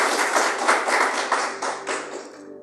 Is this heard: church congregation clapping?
yes